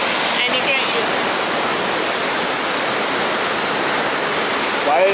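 A large waterfall on the Izu Peninsula in Japan roars continuously and loudly at close range, an even wash of rushing water with a short burst of talk at the very end.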